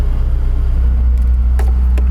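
A Ferrari supercar engine runs with a deep, steady, continuous rumble that stays loud and close throughout, with a few faint higher clicks near the end and no voices.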